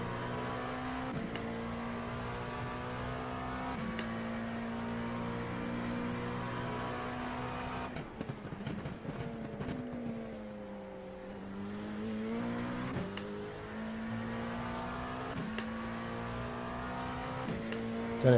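A race car engine in iRacing at Sebring, steady droning revs with gear shifts and a dip as the car slows and climbs again, continuous and close throughout.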